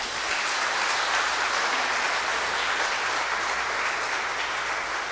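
A church congregation applauds during a Sunday evening Mass, a steady, even wash of clapping from many hands that continues for the whole stretch at moderate volume without any clear speech over it.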